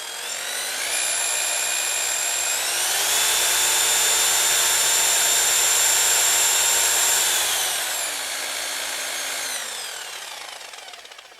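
Buffing polisher spinning up to high speed, a whining motor tone that rises, holds loud and steady for several seconds, then winds back down, close and alone.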